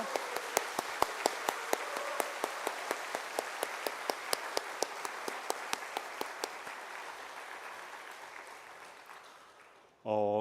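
A church congregation applauds steadily, with one set of sharp, rhythmic claps standing out over the softer crowd clapping, which slowly fades before a short burst of sound at the end.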